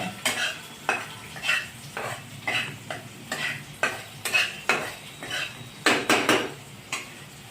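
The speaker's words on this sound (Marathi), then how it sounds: "अगदी कांदा लाल होईपर्यंत परतून घेणे" Onion and tomato sautéed in a pan for a hadga flower bhaji: loud, rhythmic spatula scrapes about twice a second over a frying sizzle, close and alone without speech.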